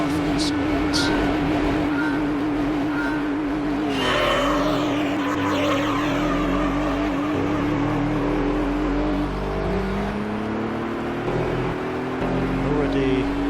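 A racing car engine in the video game Gran Turismo 3 during a Beetle Cup race, driving a more powerful car, drones continuously with shifting pitch and brief tire squeals, loud and steady throughout.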